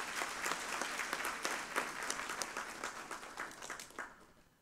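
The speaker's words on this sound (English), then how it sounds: "And I think they deserve a round of applause." A graduation ceremony audience applauds a choir with steady, moderately distant clapping that continues for several seconds and tapers off toward the end.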